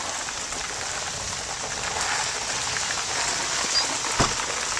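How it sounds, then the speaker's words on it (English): Summer storm rain falls steadily, a dense even patter on surfaces close by with scattered heavier drops, and no voices. "It's currently raining."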